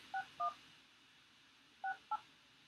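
Four brief telephone keypad dialing beeps, two in quick succession, a pause, then two more, each a clean dual-pitched touch-tone.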